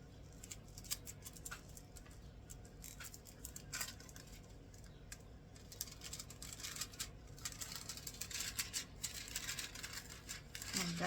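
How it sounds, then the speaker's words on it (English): Gold foil rubbed onto dried glue and then peeled off, giving close, quiet scratchy rubbing strokes in an irregular rhythm, followed near the end by a soft crinkle and tear. "rub onto the glue so that the foil actually sticks"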